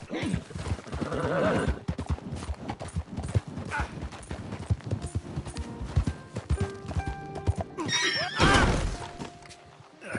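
A horse in Red Dead Redemption 2 gallops with close, loud clip-clop hoofbeats, then gives a sharp neigh near the end, with scattered clattering thuds mixed in.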